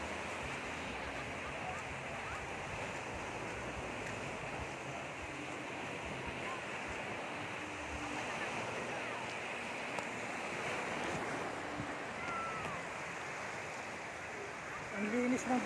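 Continuous wash of sea waves on a beach, a steady broad hiss with faint distant voices mixed in.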